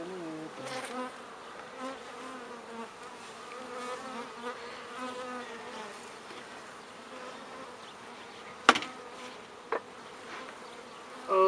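Honeybees hum steadily around a beehive in a continuous close buzz, wavering in pitch as individual bees pass near, with a couple of sharp knocks toward the end.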